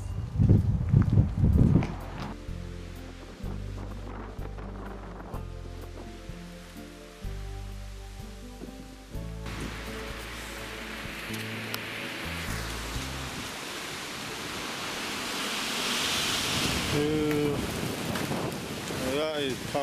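Strong wind gusts buffet a flowering banana plant outdoors in the UK, a loud continuous roar and rumble with heavy microphone buffeting, alongside music throughout and no speech.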